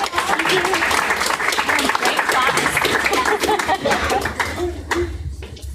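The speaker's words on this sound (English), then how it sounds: "let's give them all a round of applause" An audience at an evening EdTech meetup presentation claps steadily for about six seconds, a dense round of applause that thins toward the end, with a few voices mixed in.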